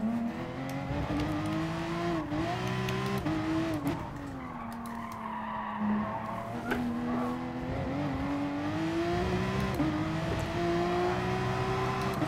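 Porsche race car engine held at full throttle in Gran Turismo Sport, a steady, loud high-pitched drone whose pitch rises and dips slightly through corners, with tire scrubbing underneath and no talk.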